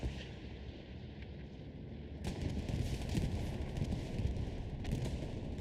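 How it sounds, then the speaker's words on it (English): Bombing run in the World War II shooter Hell Let Loose, a continuous low rumbling barrage of distant explosions with a couple of sharper blasts standing out from the roar. "Here comes the bombing run."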